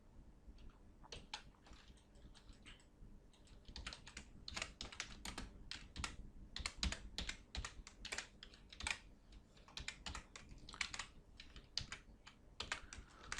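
Fast, uneven keystrokes on a computer keyboard as Java code for a thread's run method is typed, with close, continuous clicking bursts and no voices.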